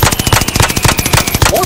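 Rapid automatic gunfire bursts from an online shooter video game, a dense, steady rattle of shots filling the whole moment at close range.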